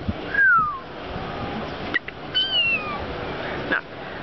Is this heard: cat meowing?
yes